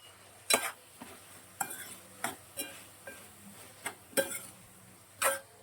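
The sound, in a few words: stirring cauliflower prawn curry in pan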